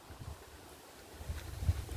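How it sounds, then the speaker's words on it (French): An evening breeze outdoors on a nature walk rumbles low and steady against the microphone, with gusts swelling toward the end. "Il y a un bon petit vent aussi."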